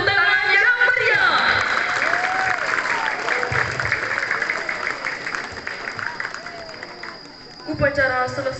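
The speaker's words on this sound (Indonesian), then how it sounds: "Berikan tepuk tangan yang meriah." Crowd applause at an outdoor Hari Santri Nasional flag ceremony in a pesantren courtyard, sustained clapping with babble and a distant engine underneath, while amplified voices speak at the start and end.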